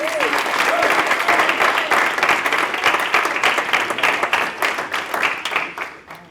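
Audience applause at a talk, a loud dense wash of many hands clapping continuously, with a few voices briefly audible at the start, tapering off toward the end.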